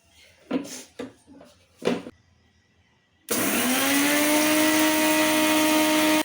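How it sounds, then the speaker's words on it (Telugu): A few soft clicks and knocks lead into a mixer grinder switched on, grinding roasted cumin, coriander and sesame with a loud, steady whirring roar close by. "మిక్సీకి వేసుకోవాలి"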